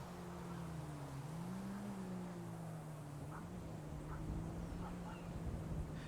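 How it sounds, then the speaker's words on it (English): A steady low engine drone runs throughout, like a car running nearby in a video game, with a few faint higher chirps over the rumble. "I hear a car."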